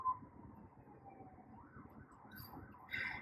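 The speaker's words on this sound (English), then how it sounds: "And there goes an ambulance." An ambulance siren passes at a distance, its rising and falling wail sweeping steadily for a few seconds beneath a low rumble of room noise, growing slightly louder toward the end.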